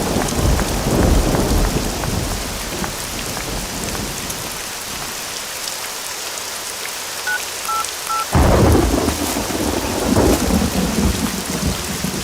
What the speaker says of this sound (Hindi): बारिश हो रही है, कोई बस नहीं आ रही है।